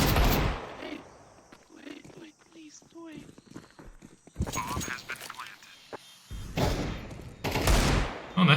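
Rapid bursts of gunfire in the Counter-Strike 2 video game, several sharp loud volleys separated by quieter stretches with footsteps, while people talk between the shots.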